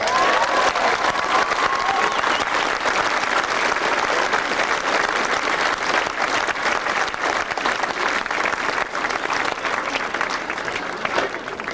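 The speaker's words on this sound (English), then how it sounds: "I'd like to give a big round of applause for John Davis, please" A large crowd at a hurling team homecoming applauds John Davis, a dense, continuous wash of clapping with scattered cheers, loud and even throughout, with a faint tone briefly audible at the start.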